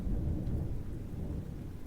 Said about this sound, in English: Next day, it rained like there was no tomorrow.